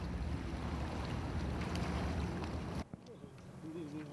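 A steady ferry engine drones with wind and water noise as the boat arrives at Dokgeodo, a remote Korean island, then cuts off abruptly, leaving quieter ambience with faint voices.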